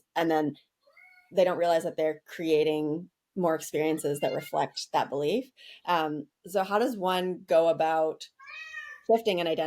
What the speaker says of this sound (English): apologies about my cat who just started being noisy.